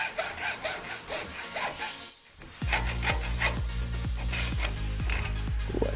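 A hacksaw works through a battery, its blade smeared with paste, after a brief quiet gap. Close, steady back-and-forth strokes follow in an even rhythm, with no voices.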